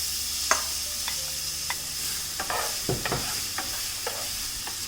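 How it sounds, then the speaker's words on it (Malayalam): Crushed jackfruit roasting in ghee in a pan, stirred with repeated spoon scrapes and soft clicks over a steady low sizzle, close and fairly quiet, with no talking. "നമ്മൾ ഈ ക്രഷ് ചെയ്ത് വെച്ചിരിക്കുന്ന ഈ ചക്ക ഇതിലേക്ക് ഇട്ടിട്ട് ഒന്ന് റോസ്റ്റ് ചെയ്തെടുക്കണം"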